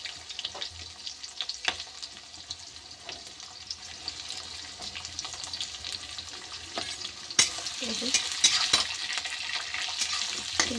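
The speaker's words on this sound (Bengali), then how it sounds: "এখন পেঁয়াজ আমি খুব সুন্দর করে ভেজে নেব।" Onions frying in a pan with cloves and dried chili, a close sizzling crackle with occasional stirring scrapes and clinks, steady and fairly quiet, no voices present.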